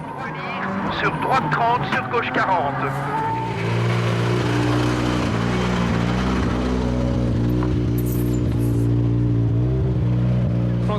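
A Ford Focus WRC rally car with a damaged left rear drones steadily along a stage of the 2003 Rallye Sanremo, its engine note loud and constant under a commentator's talk.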